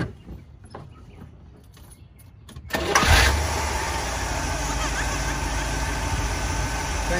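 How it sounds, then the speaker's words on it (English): A 327 engine rated at 275 horsepower, shown at a Father's Day car show, cranks over and catches with a loud roar, then settles into a steady, rumbling idle close by. "It's a 327. 275 horsepower. Let me start it up for you."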